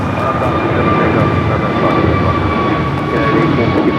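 Airliner jet engines roaring on takeoff at Los Angeles airport, a loud continuous rumble with a steady high whine.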